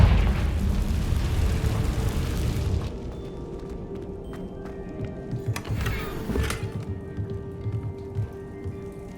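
A fire-blasting explosion spell from the Hogwarts Legacy video game bursts loudly at the start with a broad roaring rumble, then gives way to quieter crackling effects and faint tones, with no talking.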